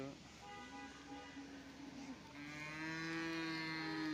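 At a busy cattle market a large water buffalo gives long, drawn-out lowing moos that rise and sustain toward the end, heard over the crowd's background chatter and occasional distant vehicle horns.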